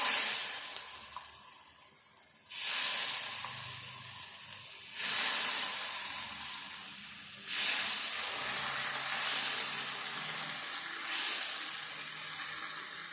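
Tomato semiya dosa batter sizzles on a hot pan, giving a soft steady hiss that flares louder in several surges as batter or oil hits the pan, with no talking.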